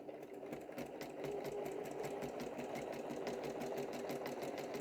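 Sewing machine stitching straight diagonal lines across a quilt, a fast, even needle clatter that starts up after a brief pause and then runs continuously, close and soft, with no voices.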